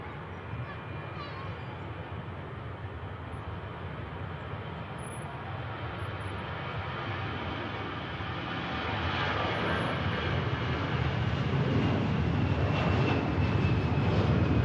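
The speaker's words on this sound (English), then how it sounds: "EasyJet to Lisbon on the spool up." An EasyJet jet bound for Lisbon spools up its engines for takeoff at Manchester Airport, a steady jet whine swelling into a louder, deeper roar over the last several seconds.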